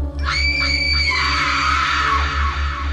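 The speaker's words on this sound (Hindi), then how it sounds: "अब वो सिसकियां नहीं बल्कि एक भयानक दर्द भरी चीख बन गई थी" A terrible, pained scream rings out as a horror story sound effect, loud and drawn out over a low, pulsing drone.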